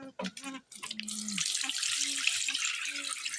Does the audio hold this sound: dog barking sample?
no